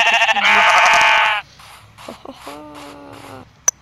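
Sheep in Minecraft bleat several times, loud wavering cries at first, then a few shorter, quieter bleats with game sounds and a brief click near the end.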